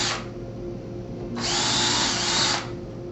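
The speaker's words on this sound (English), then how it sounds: "pre-drill your hole" Power drill pre-drilling a screw hole beside a window for mounting a shutter hinge, a short burst then a longer steady whine over a constant hum, close and loud with no talk.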